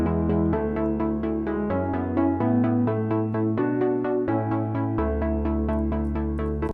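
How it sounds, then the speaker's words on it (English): A melody plays on the Native Instruments Giant sampled piano. Steady, evenly spaced notes sit over sustained low bass notes, with bright attacks and a full, resonant tone, and nobody speaks. "I'm going to use a piano called the Giant from Native Instruments"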